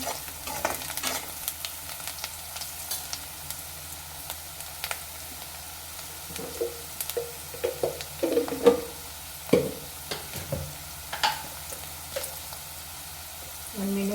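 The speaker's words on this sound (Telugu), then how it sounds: "ఈ ఆయిల్లో ఒక 1 మినిట్ ఇట్లా మగ్గనివ్వాలి సిమ్లో పెట్టి" Turmeric cooking gently in oil on low heat in a pan, a soft low sizzle broken by intermittent stirring scrapes and clinks, fairly quiet and close.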